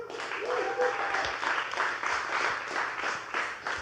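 Audience applause greets a speaker coming on stage at a recording conference, a moderately loud, continuous patter of many hands with a brief voice or whoop near the start.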